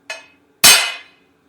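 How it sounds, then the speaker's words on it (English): A hammer strikes a punch to make a mark on a 394 stroker engine part: a light tap followed by one loud, sharp metallic blow that rings briefly, close and alone. "Hit it with a hammer."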